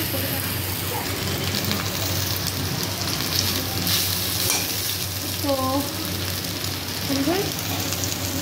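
Maggi noodles with vegetables and eggs being stirred and fried in a pan, a constant loud sizzle with scraping stirs and a few brief tonal chirps over the top.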